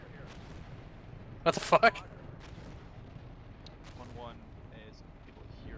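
Artillery strikes in Steel Beasts, a tank combat game, arriving as a short cluster of loud, sudden blasts over a low wind-like background, with voices talking over radio before and after.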